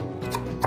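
Two quick knife strikes on a cutting board as two garlic cloves are finely minced, short crisp chops spaced apart over faint background hum.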